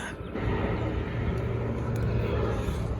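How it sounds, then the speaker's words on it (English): An airplane passing overhead during outdoor truck lift-kit work, a steady low roaring rumble that swells slightly and holds, moderately loud and heard alone without talk. "it's only been 5 minutes and there's another plane flying over"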